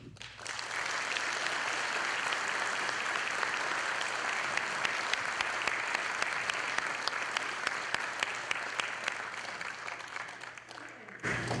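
Sustained audience applause at an outdoor Veterans Day ceremony in the City of Lynn, a dense, steady wash of many hands clapping for about eleven seconds before it cuts off.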